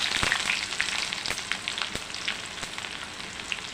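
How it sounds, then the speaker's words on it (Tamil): Mustard seeds, cumin, fenugreek, peppercorns and dried red chillies fry in hot oil for vegetable sambar tempering, giving a close, dense hiss dotted with quick popping crackles and a few sharp clicks. "கடுகு சீரகம் வெந்தயம் ஒரு நாலு மிளகு காஞ்ச மிளகாய் இதில் கொஞ்சோண்டு வெங்காயம் போட்டுக்கலாம்"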